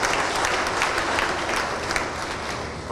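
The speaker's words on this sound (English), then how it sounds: "a bigger round of applause for him" A round of applause from a live audience, dense steady clapping that stays at an even level for a few seconds, moderately loud and with no voices over it.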